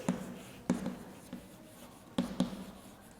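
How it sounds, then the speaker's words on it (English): Short, scratchy writing strokes come in small bursts with pauses between them, close and moderately loud, during an English class lesson with no talking. "I am going to write features."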